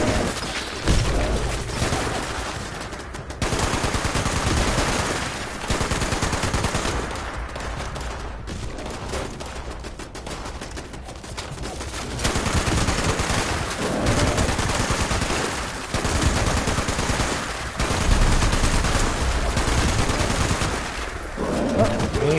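Machine gun fire roars continuously through a video game firefight, loud and dense with brief lulls, under occasional talk.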